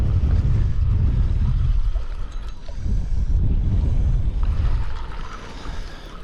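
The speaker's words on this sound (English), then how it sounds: "Man, that wind is something else." Strong wind gusts across open water on a fishing outing, loud low rumbling buffeting against the microphone that swells and eases in waves, with no speech.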